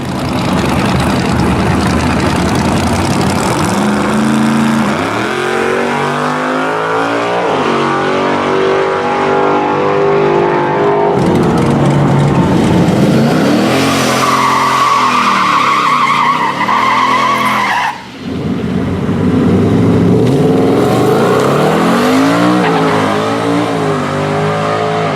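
Turbocharged Hellion car making a drag strip run from an idle launch: a loud, sustained engine roar climbing in pitch through several gear shifts, with a brief drop near the end before pulling hard again.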